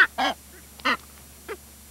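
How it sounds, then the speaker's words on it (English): Masked boobies on Daphne island in the Galápagos give a handful of short, harsh honking calls at close range, spaced irregularly with brief quiet gaps between them. "Masked boobies."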